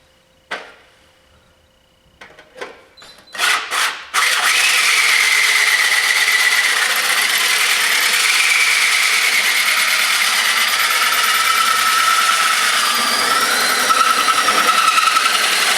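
A power tool cuts gauge holes into a box for an engine run stand: a few sharp clicks and short bursts, then a loud, continuous cutting whine that runs on without a break.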